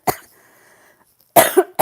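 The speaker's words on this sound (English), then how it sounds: "Sorry, I'm coughing." One person coughs several times, in short sharp bursts close to the mic, with a quiet faint hum between them.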